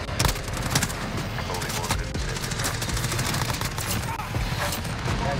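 Rapid automatic fire from a Bizon PP19 submachine gun in Modern Warfare, a dense unbroken stream of shots with sharp transients running the whole time under game noise and a talking voice.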